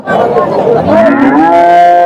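A calf at the Chintamani cattle market gives one long, loud, close moo that rises and falls in pitch, with faint crowd chatter behind it.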